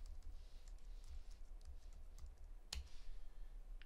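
Someone types on a computer keyboard, with soft, quick, irregular key clicks close by in a quiet room.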